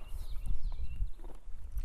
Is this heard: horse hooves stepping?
yes